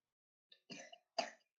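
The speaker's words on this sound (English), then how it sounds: "cover your mouth when you cough" A child coughs in a classroom during a lesson, two or three short, rough bursts close by with brief gaps between them.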